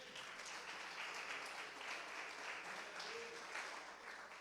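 A church congregation applauds steadily and loudly after a call to praise Jesus during a Portuguese-language sermon, the clapping dense and continuous throughout with no voices standing out.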